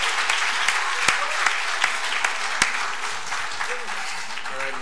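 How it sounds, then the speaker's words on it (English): Church congregation at an Easter service applauding, steady clapping with a few sharp louder claps standing out and some voices mixed in. "So if you're for Marissa, would you just like shoot out some shouts and applaud that you are?"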